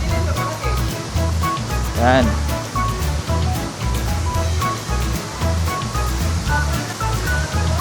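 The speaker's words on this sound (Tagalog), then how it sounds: "naririnig na natin at nakikita ko na yung agos ng tubig sa falls dito" Mantayupan Falls, a long waterfall in Barili, Cebu, pours as steady broadband rushing water throughout, with a person speaking briefly over the roar.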